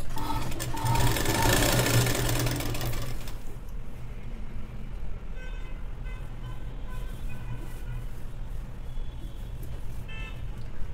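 A sewing machine stitches through the layers of a child's long gown, main fabric and lining. A loud, steady run of stitching comes first, then the machine continues at a lighter, quieter hum.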